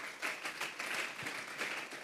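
A church congregation applauding together, a fairly soft, steady patter of many hands clapping at a moderate distance, with no distinct talk over it.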